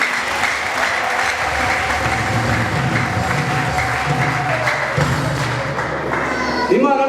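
A church congregation applauds loudly and steadily for several seconds, a full wash of clapping with a sustained voice or tone running underneath.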